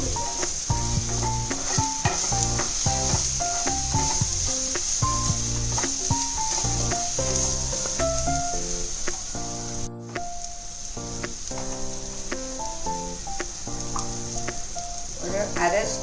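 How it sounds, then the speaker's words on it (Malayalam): Pepper powder sizzles and is stirred in a pan while rasam for an Onam sadya is cooked, a constant fine hiss held under loud, prominent background music. "ഒന്ന് ഇളക്കി കൊടുക്കുക"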